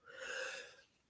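A single quick, breathy sneeze burst, fairly close, rising and fading within about a second.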